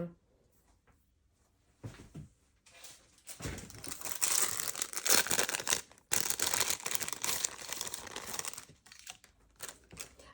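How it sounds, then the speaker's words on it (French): Velcro fasteners being fitted to a small glitter pouch, loud close crinkling and ripping bursts after a quiet start, with brief pauses between them. "nous allons poser donc les velcro qui vont me permettre la fermeture de ce petit sac"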